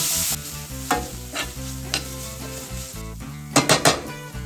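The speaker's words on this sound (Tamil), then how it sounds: "பொடியாக நறுக்கின மீடியம் சைஸ் வெங்காயம் 1, இதையும் சேர்த்துட்டு நல்லா வதக்கி கொடுத்துடலாம்" Finely chopped medium onion sautéing and being stirred in a pan for cauliflower paratha filling, with a steady sizzle, scraping stirs and a few sharp metal clinks of a spoon against the pan near the end.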